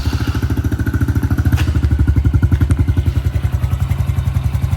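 A Honda CRF110 dirt bike with a weak battery idles close by, its small engine thumping in a fast, steady, even rhythm with a light mechanical clatter on top, with no voices.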